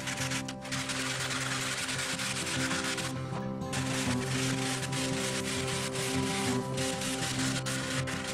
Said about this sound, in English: Smooth the leading edge with sanding.